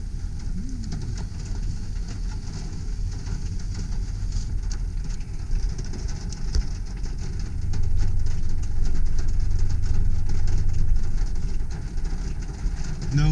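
Engine of a 1995 Ford E150 conversion van hums low and steady while reversing, its rumble swelling partway through, with a voice speaking briefly.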